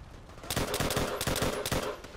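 Rapid gunfire in the World at War video game, a loud burst of repeated shots with a steady rhythmic crackle over about two seconds, with no talking.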